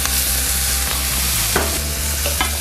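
Onions frying in butter and oil make a loud, dense sizzle right up close, with a couple of brief stirring scrapes and no talking.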